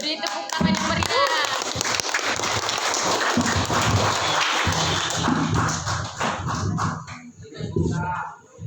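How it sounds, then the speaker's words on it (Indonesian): Lively applause and clapping from an audience after a speech at an Islamic school gathering, dense and sustained for several seconds, with crowd voices and talk mixed in. "Beri tepuk tangan yang meriah"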